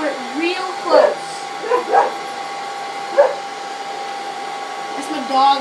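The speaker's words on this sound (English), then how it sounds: "That's my dog in the background." A dog barks a few times in the background, short yips spaced over several seconds, beneath a steady droning motor hum.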